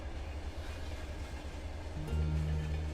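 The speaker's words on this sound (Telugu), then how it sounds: "గురువారం రాత్రి 2 గంటలకి స్పెషల్ ట్రైన్ వైజాగ్ రామేశ్వరం వెళ్తుంది." A train passing at night, a low rumble and hum that swells louder near the end, heard close and without voices.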